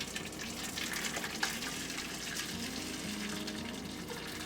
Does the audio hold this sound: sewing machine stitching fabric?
no